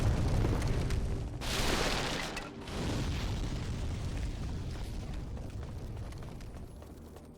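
Loud booming explosions from the video game Demon's Souls, a heavy blast with a roaring rumble, a second burst, then a long decaying rumble that slowly fades; one brief spoken word overlaps.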